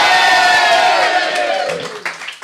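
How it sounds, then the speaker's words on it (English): A comedy show audience cheers and shouts loudly in response to a prompt, a burst of massed voices that swells at once and then thins and fades, with a few scattered whoops near the end. "give us a cheer."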